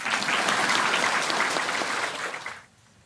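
Audience at a Buddhist sutra lecture breaking into steady applause, many hands clapping close by before fading out near the end.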